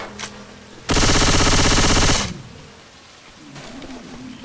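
A sustained automatic weapon burst roars for over a second in Left 4 Dead 2, loud and close, preceded by a short shot and followed by fading game ambience.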